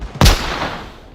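A single sharp gunshot cracks out in the Onward VR shooter during a 4v4 competitive scrim, loud and close, then a long rumbling echo decays through the rest of the moment.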